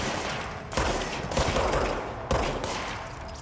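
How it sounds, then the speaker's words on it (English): Gunfire hits the player in the video game Control: loud bursts of automatic fire in three clusters, close and harsh, with no talk. "Oh god, I'm getting shot."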